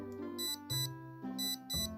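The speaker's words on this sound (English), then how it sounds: "that's the alarm" Vintage Star Trek Criterion game watch alarm sounding in bursts of bright electronic beeping melody, four short phrases separated by brief gaps, close and clear.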